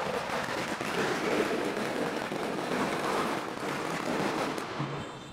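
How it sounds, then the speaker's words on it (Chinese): Firecrackers going off outdoors near a beachfront residential area, a dense continuous crackling barrage at moderate distance, steady and unbroken. "啊，今日有人打鞭炮喎，唔好意思，有少少嘈。"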